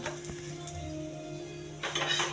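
Light clinks and scrapes of metal utensils against a pan while dosa cooks for a breakfast tiffin, a few soft, close knocks over a quiet kitchen hum.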